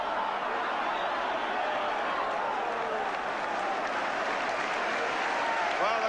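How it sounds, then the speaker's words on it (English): A football stadium crowd applauds steadily at a West Ham United versus Manchester United match, a dense continuous wash of clapping with faint crowd murmur throughout. "crowd applauding that one-touch football by West Ham"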